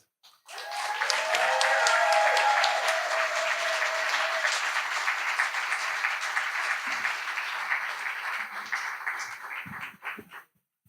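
Audience at Flanagan's pub storytelling night bursts into sustained, loud applause that swells quickly, holds steady with scattered whoops, then tapers off near the end.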